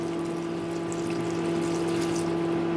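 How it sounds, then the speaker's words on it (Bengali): Water poured into a yogurt gravy of taro and split chickpeas, a steady close pour with an even, continuous flow and no talk. "এখন আমি এর মধ্যে অ্যাড করে দেব দইয়ের বাটি ধোয়া অল্প জল আর দিয়ে দেব গ্রেভির জন্য পরিমাণ মতো জল।"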